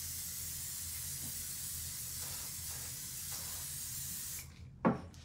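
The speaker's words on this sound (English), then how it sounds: "you hold it about 10 to 12 inches and then you just spray it on" Instant tanner spray hisses steadily from an aerosol can held about a foot from the skin, a continuous close spray lasting several seconds before stopping with a soft clunk.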